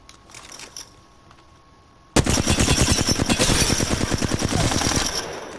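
Flatline assault rifle fired in a video game: quiet game ambience, then a sudden long burst of rapid automatic fire that runs steadily and loudly to the end.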